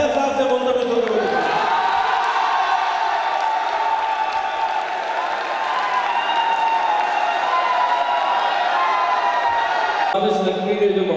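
An audience at a poetry recital (mushaira) in a college hall claps in a sustained, dense burst of applause with some cheering, building and holding for several seconds before a voice returns at the end.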